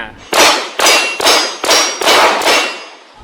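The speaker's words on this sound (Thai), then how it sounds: "เป็นเสียงลูกกระสุนกระทบเพลทนะครับ" Six sharp metallic clangs of bullets hitting steel target plates ring out in a steady rhythm, each bright ping decaying briefly before the next strike.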